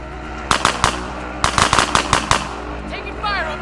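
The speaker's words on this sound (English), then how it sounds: "Taking fire over here." Gunfire in a video game arrives as several sharp shots in two quick clusters, loud and close, followed by a brief warbling electronic tone at the end.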